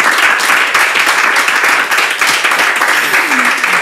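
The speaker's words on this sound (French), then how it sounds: "Allez, applaudissez pour vous" Audience at a church gathering breaks into dense, lively clapping that holds steady and loud throughout, close and enthusiastic, with a few voices faintly mixed in.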